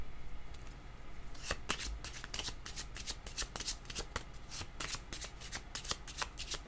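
Tarot cards being shuffled close by, a rapid irregular series of crisp papery riffles and slaps lasting several seconds, fairly quiet, with no talk over it.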